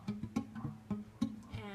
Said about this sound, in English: you need to make sure you press the strings down hard enough, because if you don't, it'll sound like this.